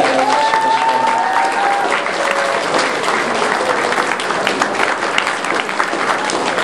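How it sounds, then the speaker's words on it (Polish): Sustained audience applause fills a school farewell gathering at a regional folk feast, steady dense clapping close and loud throughout with a faint crowd murmur beneath. "należą się ogromne oklaski"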